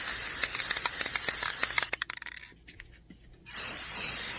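Spray paint hisses onto a DIY marble tray in loud, close bursts: a long steady spray, a few short sputtering puffs, a brief pause, then another strong blast, with no talking.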